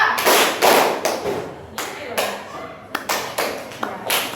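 A group claps in a repeated rhythmic pattern of single and double claps, loud and close, with bursts separated by short pauses and a voice speaking between them.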